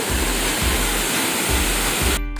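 Waterfall roaring as a steady, loud broadband rush close at hand, with faint low thumps underneath, cutting off abruptly at the end.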